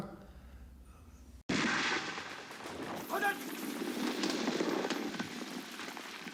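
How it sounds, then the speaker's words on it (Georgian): After a sudden cut, a burst of loud gunfire from a 1964 war film scene erupts and continues as a dense, noisy barrage, with a brief shout among the shots. "ამ დროს ატყდება სასტიკის სროლა"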